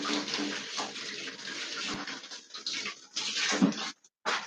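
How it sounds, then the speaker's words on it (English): Water from a running tap splashing steadily over hands at a sink, continuous and close, briefly cutting out near the end before resuming. "Wash my hands one more time."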